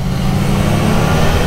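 Yamaha Niken three-wheeled leaning motorcycle engine pulling steadily while riding on the road, a continuous smooth mid-pitched drone with low rumble and wind, close and fairly loud, with no voices.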